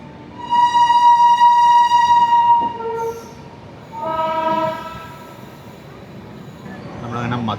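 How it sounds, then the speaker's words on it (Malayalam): A passing train on the right sounds a long, loud horn blast, a short pause, then a second shorter blast, heard from inside a moving express near Mathura Junction, with a voice briefly at the end. "ഹോണ്ടടി കേൾക്കാം"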